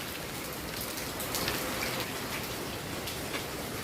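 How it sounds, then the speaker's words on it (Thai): Steady rain falling during sunshine patters down in a continuous hiss of close, dense drops, with no voices and no pauses. "ฝนตกแดด"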